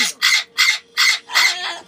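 A pet bird at home gives five harsh, loud squawks in quick, evenly spaced succession, very close.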